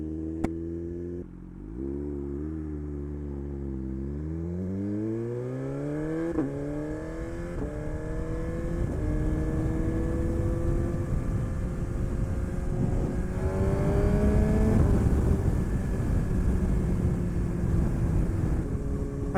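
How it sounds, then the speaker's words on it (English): A Suzuki Gixxer 1000 sport motorcycle rides along a road, its engine note rising through several gear-like sweeps as it accelerates, then settling into a steady loud drone mixed with heavy wind rush. "Road tripping on the Gixxer 1000."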